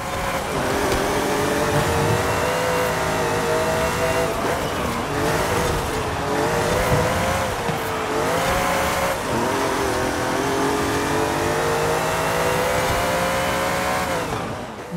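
A Jaguar XJ13 with a V12 engine in Forza Horizon 5 drones loudly and steadily, its pitch sweeping up and down as the revs rise and fall, with a faint screech of tyres now and then.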